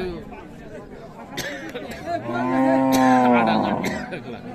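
A cow moos with a long, drawn-out low call amid background chatter and bustle at a cattle market in Raniganj, Dinajpur, where Friesian cows are sold.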